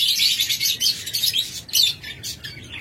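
A sea green pair of pet birds chirps and tweets, with bright, rapid, overlapping calls that come up close and fairly loud in quick bursts for a few seconds and no talk.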